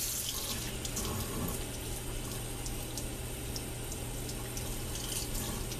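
Tap water runs steadily into a sink while a freshly cleaned fish is rinsed; a close, even splashing stream continues throughout with no one speaking.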